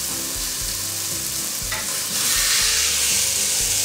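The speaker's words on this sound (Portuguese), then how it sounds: "A carne aí tá, estão ouvindo? Tá no fogo alto" Stuffed meat sizzles and crackles loudly in a hot pan on high heat, a constant hissing fry that swells a little louder toward the end, with a low hum beneath.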